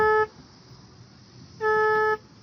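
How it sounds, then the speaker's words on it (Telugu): A vehicle horn blares twice, a short blast then another about a second and a half later, loud and close, sounding as the vehicle is started. "ఏందిరా హార్న్ వస్తుంది స్టార్ట్ చేస్తా ఉంటా?"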